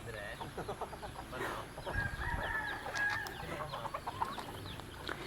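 Outdoors, a rooster crows faintly amid scattered clucking from a flock of chickens, with soft background noise and a murmur of voices.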